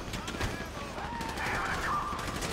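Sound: gunfire in video game Grand Theft Auto 5

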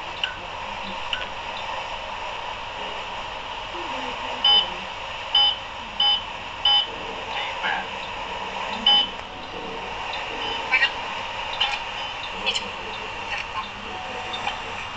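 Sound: car GPS navigator beeping

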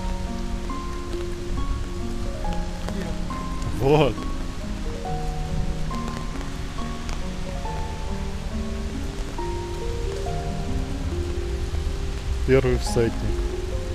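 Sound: rain falling

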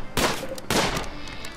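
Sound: gunfire in video game Rimworld, deer being hunted

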